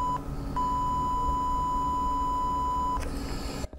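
A YR1035+ battery internal resistance tester emits a steady, clean electronic beep near 1000 Hz, a short chirp followed by a sustained tone lasting over two seconds over a faint background hum, then a brief click.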